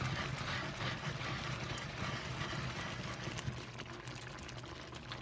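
Lemon sauce bubbling and reducing in a pan alongside cooked red snapper and sea bass fillets, a soft continuous sizzle and simmer with fine crackling, fairly quiet and steady without talk.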